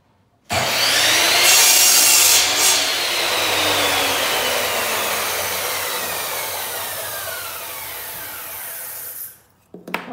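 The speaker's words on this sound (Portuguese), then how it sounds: "eu vou cortar na serra que está aqui atrás" A power saw bites into a length of wood for a block-laying guide, a loud continuous grinding whine that holds steady for about nine seconds, starting and stopping abruptly, with no talk.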